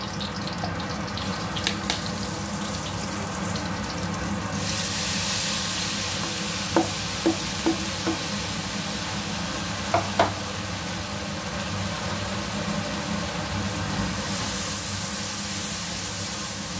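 Spice paste for spicy squid sambal frying in a pan, a steady close sizzle with a few soft stirring knocks and no talk.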